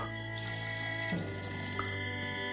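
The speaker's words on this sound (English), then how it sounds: "we'll fill our water bottle" Water running from a tap into a bottle in Project Zomboid, a steady close trickling stream that shifts in pitch partway through as the bottle fills, heard alone under a constant low game ambience.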